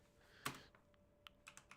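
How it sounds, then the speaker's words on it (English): Typing on a computer keyboard: a sharp cluster of clicks, then a few scattered, lighter keystrokes in an uneven rhythm, close and fairly quiet over a faint steady hum, with no talking. "my typing is abysmal today"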